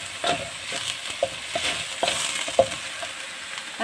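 Swansai greens with garlic sizzle and crackle in a hot pan, with a steady frying hiss broken by soft clicks and bumps as the vegetables are stirred.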